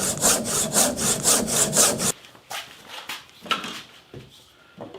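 A hand saw with a soap-lubricated blade cuts a wooden miter in a jig, giving about seven even rasping strokes, then slower, lighter scraping strokes, close and alone.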